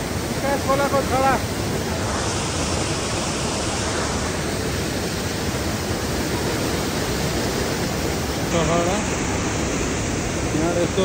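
River water on the Nikas in Surkhet flows with a constant loud rushing hiss, close to the microphone, with faint voices appearing briefly under the roar.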